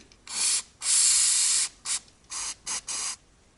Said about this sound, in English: I'm first going to add some penetrating oil to the bolt to break it free.